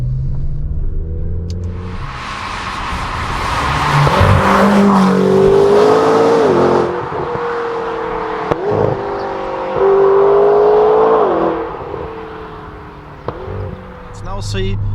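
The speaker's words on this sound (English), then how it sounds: "Let's now see how fast the McLaren GT goes, 100 to 200." A 620 hp McLaren GT accelerates hard on the Autobahn from about 100 to 200 km/h, the engine note rising through gears with brief dips at shifts, loud and close under steady road and wind roar.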